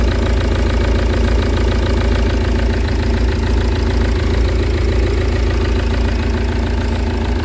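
Steady close idle of a green Citroen C5 just fitted with a new timing belt, a continuous low engine drone with fine regular ticking and no change in pace, alone without talk.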